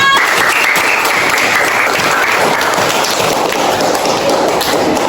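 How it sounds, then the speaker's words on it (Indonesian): A primary school classroom of children bursts into loud, continuous applause, a dense wash of many small hands clapping together at close range, sustained evenly throughout without a pause. "Tepuk tangan untuk kita semua."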